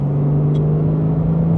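Heard from inside while cruising, a manual, rear-wheel-drive Porsche 911 Sport Classic engine drones steadily at constant revs on an Alpine road, loud and even with a low rumble underneath.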